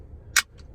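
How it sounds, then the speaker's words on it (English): A single sharp hiss-crack of an energy drink can being opened, close up, followed by a faint softer fizz in an otherwise quiet room. "That is the sound of the first energy drink of the trip."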